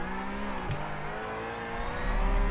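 A race car in the iRacing sim roars through a hairpin, engine note shifting and revving steadily with a brief tire scrub, loud and continuous with no talk.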